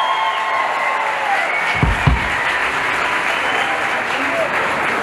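Open-air festival crowd at Tanzbrunnen Köln claps loudly and continuously, a dense, even wash of applause with a couple of sharper thumps near the middle.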